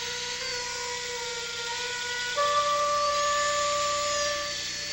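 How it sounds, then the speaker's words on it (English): Cranial drill whining during a surgery scene in a 1976 film, a steady high-pitched electric motor tone that steps up in pitch partway through, continuous and fairly close. "Cranial drill."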